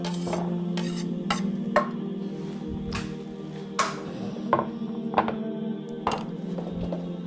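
Food goes into a pan of hot olive oil, butter, garlic and Maldon salt, frying with a steady sizzle under a kitchen hum, punctuated by several clinks and scrapes of a utensil against the pan.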